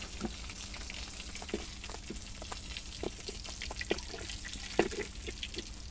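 Pieces of katla fish frying in oil in a pan, a quiet steady sizzle with scattered pops and crackles, heard close with no voices.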